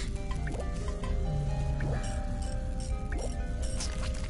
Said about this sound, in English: I could hear water flow through the pipes to another part of the building